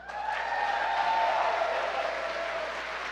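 A large crowd at a Bernie Sanders rally in Wisconsin applauds and cheers in a steady, sustained wash of clapping that fades slightly toward the end.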